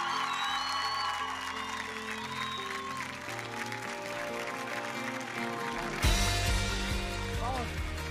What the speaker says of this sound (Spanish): Vamos a darle un aplauso, Maxi.